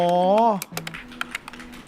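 Fast clicking on a computer keyboard while playing TypeRacer: a short voiced sound opens, then a quick uneven run of close, crisp keystrokes follows, about a dozen taps in under two seconds.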